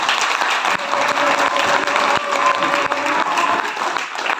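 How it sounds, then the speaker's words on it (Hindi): Sustained, dense applause from an audience at a training session fills the whole stretch, loud and steady with no speech over it. "चलिए तो एक बार जोरदार ताली आप लोग।"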